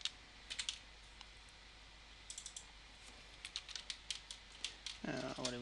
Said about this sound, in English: what we're going to do is we're actually going to type the questions